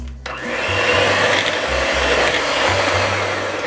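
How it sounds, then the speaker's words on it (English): An electric mixer whirs steadily as egg is beaten into churro batter, a loud continuous motor drone with slight pitch wobble and no talking. "Now I'm going to add in our egg"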